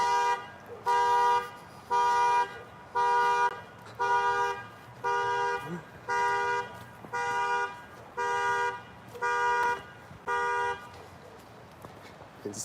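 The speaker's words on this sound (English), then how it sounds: "Why does the car alarm keep going off?" A car alarm sounds on a street, blaring a rapid series of honking blasts about once a second, roughly eleven loud pulses in an even, insistent rhythm.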